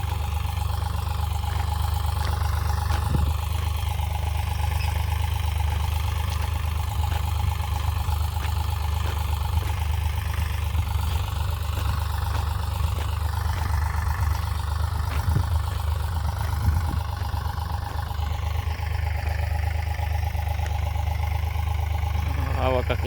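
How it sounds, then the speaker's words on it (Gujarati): A low tractor engine idles steadily throughout in a farm field, a constant rumble with little change, while a voice talks over it now and then. "ઝીણા ઝીણા ટ્રેક્ટર હાલે છે"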